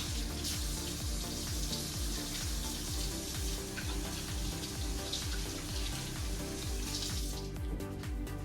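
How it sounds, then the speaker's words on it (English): Hands rinsed under a running kitchen tap while cooking, a steady, close, continuous rush of water with no talking. "One more trip to wash my hands"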